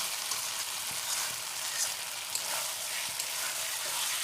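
Chicken pieces sautéed with spices in a pan for kosha, a steady broadband sizzle and frying hiss throughout with faint scrapes of stirring, close and continuous.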